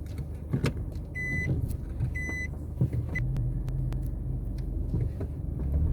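A car driving through an active highway work site on a Jamaican coastal highway improvement project, heard as a steady low road rumble from inside the vehicle with a few short electronic beeps and clicks, no talking.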